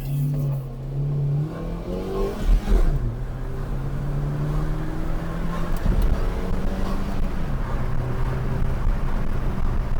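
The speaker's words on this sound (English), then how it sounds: "He's feeling the smooth gear change there all the way up to 5th" A car accelerates from inside the cabin, the engine note climbing and then dropping with each upshift through the gears, a steady loud drone under road noise with no talking.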